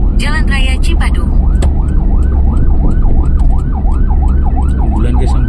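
An ambulance siren wails in a steady rising-and-falling pattern over the loud rumble of road traffic on Jalan Raya Cipadung, Bandung, with a brief burst of faster yelping at the start.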